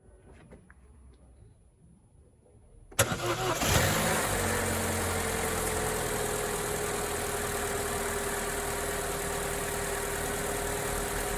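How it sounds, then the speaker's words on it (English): A 2014 Opel Corsa D 1.4 petrol engine, just serviced, cranks briefly after a quiet start, catches with a sharp burst, flares up, then settles into a steady close idle for several seconds. "now it's time for the second engine startup"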